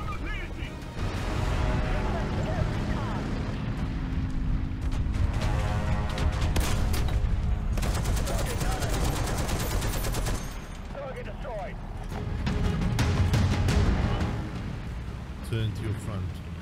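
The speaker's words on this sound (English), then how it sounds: "the high velocity cannon makes a world of a difference on this Sherman" Sherman Firefly tank's high-velocity cannon firing in War Thunder, loud sharp reports amid continuous battle noise and engine rumble, with a voice talking over it.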